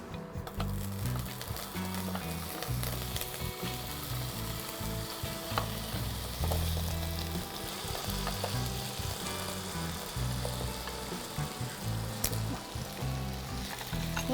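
Potatoes fry in a pan for a Bengali drumstick-flower posto dish, a loud continuous sizzle with crackling bursts and occasional stirring scrapes close to the microphone, and no talking.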